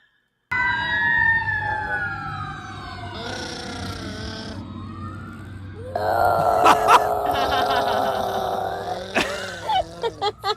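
Wailing sirens rise and fall, and partway through a voice-like howl joins in, seemingly imitating the siren, with some sharp clatters near the end.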